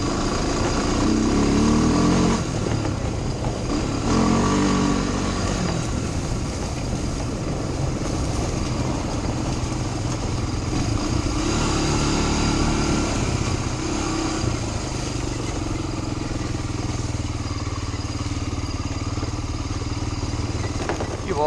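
A Honda Fourtrax 250X quad's small single-cylinder engine runs steadily after a kickstart, a loud continuous buzzing drone with slight revs early on and no talking over it.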